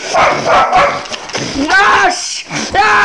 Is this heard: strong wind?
no